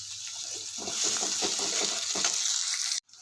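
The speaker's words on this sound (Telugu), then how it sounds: "ఉల్లిపాయలు వేసేసుకుని మంచిగా వేయించుకుందాము." Sliced onions fry in hot oil in a pan, a close steady sizzle with soft crackles and stirring scrapes for about three seconds before it cuts off abruptly.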